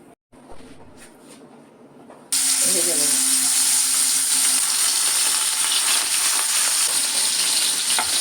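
A steady, loud sizzle of fish frying in hot oil starts abruptly after a few quiet seconds of faint kitchen noise and continues without a break.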